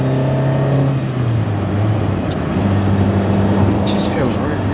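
A 1977 Ferrari 308 GTB pulls hard under acceleration, its engine note a steady close rumble that rises through the revs alongside the whir of the cabin, with talk over part of it.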